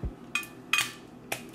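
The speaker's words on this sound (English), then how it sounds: "Now I'm about to cut my potatoes on a plate" A knife cuts peeled russet potatoes directly on a plate, giving three sharp ceramic clinks and scrapes spaced apart, close and fairly clear.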